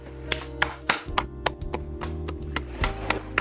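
About a dozen sharp claps or taps ring out at an uneven pace, fairly close, over a faint background tone.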